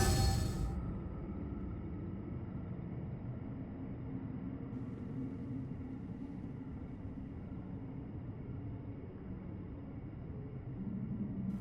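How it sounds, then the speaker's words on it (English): Deep, steady low rumble of a tremor in underground tunnels in the Genshin Impact video game, continuous and faint, with a soft hissy background and no talk. "It feels like something is trembling deeper in the tunnels."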